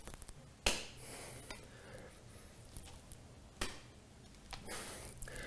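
Bare feet clap together during hops in a yoga flow, giving three sharp, quick slaps spaced a few seconds apart in a quiet room.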